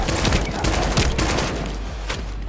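Rapid gunfire from a gun in the shooter game The First Descendant, a dense run of loud close shots packed together for a few seconds, with no talk over it.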